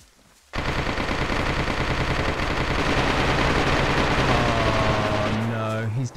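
A heavy gun fires a sustained, loud burst of continuous rapid shots in DayZ, starting abruptly after a brief quiet moment and pounding on for several seconds.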